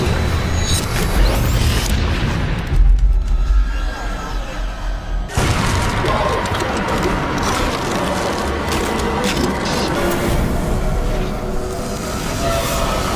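A fiery explosion in an animated Halloween special: a loud, sustained crashing roar with a heavy low boom near the three-second mark, then continued dense rumbling and crackling debris.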